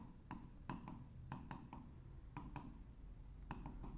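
Pen writing on paper, a soft, close scratching with quick strokes and taps in an irregular rhythm over a low background hum.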